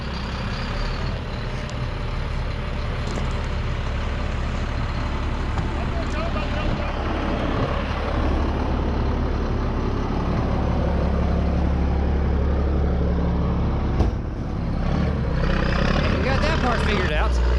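A truck rolls slowly through a course of cones at a driving skills competition, its engine a steady low rumble throughout with brief air-brake hiss, while voices talk in the background.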